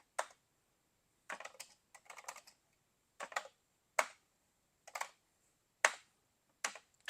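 A Commodore 64 keyboard fitted to an SX64 portable computer is tested with key presses: short clusters of sharp, close clicky taps separated by brief silences, alone without talk.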